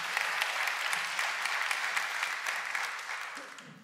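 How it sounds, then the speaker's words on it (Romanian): A comedy roast audience gives a round of applause, a dense, steady crowd clapping heard from inside the venue that tapers off slightly toward the end. "Vă rog frumos aplauze pentru Viorel"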